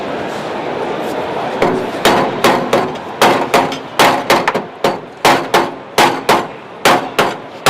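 Repeated hammer blows on the steel body of a Triumph TR7 at spot welds, sharp metallic strikes close by in a steady, quickening rhythm, with faint speech before them.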